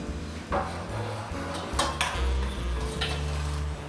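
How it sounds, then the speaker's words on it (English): A cooking pot being stirred, with dull clinks and scrapes of a utensil against the pot recurring over a low steady background hum, close by and moderate in level. "So now you need to mix and stir properly"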